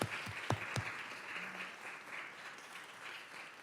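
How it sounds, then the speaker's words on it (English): Spectators clap for the Loyola team after the final round of a mock-trial championship, soft scattered applause at a moderate distance, with a few sharp knocks or thumps near the start before the clapping tapers off. "just one more round of applause from our team from Loyola"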